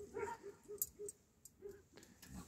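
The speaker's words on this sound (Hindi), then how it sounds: "इनके कुत्ते लगे भाई भौंकने परली वाली तरफ को ना बड़े जोर शोरों से" Dogs bark repeatedly from far off on the other side of a hillside jungle, in short, faint, rhythmic yaps with no speech in between.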